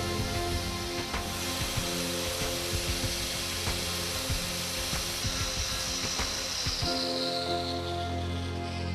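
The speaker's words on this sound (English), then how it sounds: "the material is sanded down 1 mm over a width of barely 20 mm at both ends" Sanding down car body panel material and paintwork around a damaged area ahead of hot-air repair, a steady abrasive rubbing and scraping that runs continuously with short rhythmic strokes, close and fairly loud, with no voices.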